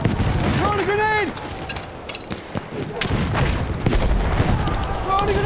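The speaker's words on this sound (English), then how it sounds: "Throwing a grenade! Lobbing grenade!" Battlefield 1 combat with rumbling grenade blasts and bursts of gunfire, loud and continuous over a dense battlefield din, while voices shout in the game.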